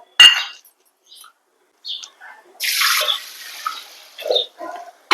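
Water splashes and trickles as horse gram dal is rinsed in a pressure cooker, with intermittent bursts of pouring and sloshing between short quiet gaps, close by.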